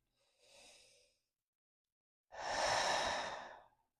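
Two deep breaths during a yoga practice: a soft, short inhale, then after a pause a much louder, longer sighing exhale close to the mic, with no talking.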